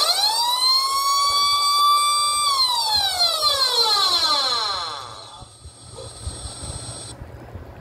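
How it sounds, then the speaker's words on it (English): An electromechanical siren sound from a small homemade speaker whines upward, holds a steady high wail, then winds down in a long falling sweep, loud and mechanical-sounding, fading to near quiet. "Another electromechanic siren noise."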